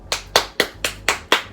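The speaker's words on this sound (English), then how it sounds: "claps for Shia." Six sharp hand claps ring out close and loud at an even, moderate pace, each one crisp and separate with short gaps between, and no other sound underneath.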